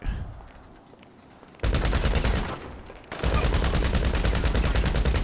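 Gunfire from a GTA Online contact mission, with dense rapid bursts of automatic shots starting suddenly partway through after a quieter stretch, then continuing as a loud sustained volley with a brief dip between.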